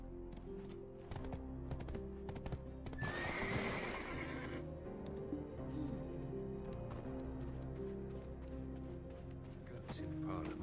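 A horse whinnies and hooves clip-clop while riding in the online game Black Desert Online, with a loud neigh burst midway over game music, steady keyboard tapping throughout.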